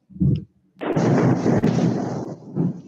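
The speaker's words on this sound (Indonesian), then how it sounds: "Ada backsound petir." Thunder used as a background sound effect: a short low rumble, then a long, loud rolling crash lasting about two seconds that fades out, followed by a brief low rumble.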